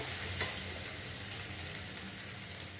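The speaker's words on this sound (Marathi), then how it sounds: "हे जे आपण पेस्ट करून ठेवलेली आलं लसूण आणि मिरचीची ती घालूया। थोडंसं हे परतून घेऊया।" Ginger, garlic and green chilli paste sautéing in a pan, a soft continuous sizzle held low and even, with a single faint tap early on.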